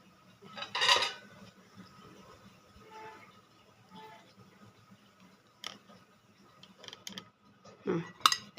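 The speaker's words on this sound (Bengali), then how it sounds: "এই দেখেন পিরিচগুলো আমি পরিষ্কার করে নিচ্ছি" Saucers and a serving dish clink against each other while being washed and stacked in a home kitchen: a sharp ceramic clatter early on, quiet handling in between, and another brief clink near the end.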